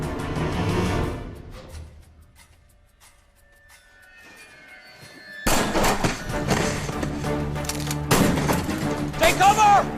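Gunfire erupts in a tense TV drama standoff: after a quiet pause, loud bursts of shots and impacts hit suddenly and continue in a dense, chaotic barrage, with a raised voice near the end.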